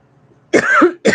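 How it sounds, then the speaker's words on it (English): Two harsh coughs burst out close up after a near-silent moment, the first longer and raspy, the second sharp and short, with no talking. "I'm coughing because it's freezing in here and has been for days"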